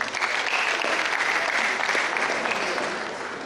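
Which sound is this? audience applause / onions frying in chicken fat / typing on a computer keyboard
audience applause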